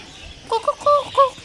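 A chicken at a zoo gives four short, sharp clucks in quick succession, clear and fairly close against a quiet background.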